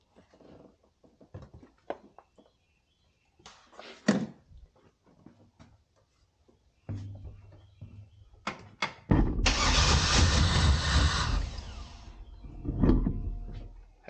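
A car engine cranks and catches on its first start after work under the hood, bursting into a loud rough idle that runs for several seconds after scattered clicks and handling noises beforehand.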